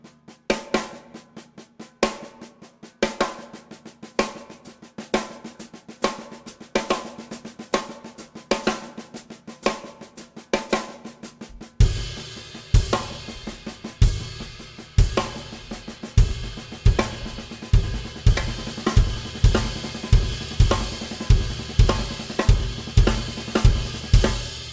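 A drum kit plays a repeating group-of-nine pattern variation in twelve beats, with quieter, sparser strokes at first. About halfway through, fuller, louder hits with steady accents take over and continue to the end, the drums alone.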